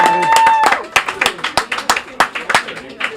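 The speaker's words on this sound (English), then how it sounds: "How about a nice round of applause for Mayor John Mitchell?" Live applause for Mayor John Mitchell from a small diner audience, a fairly close patter of hand claps that rises and thins out over a few seconds, with a brief tone and some voices mixed in at the start.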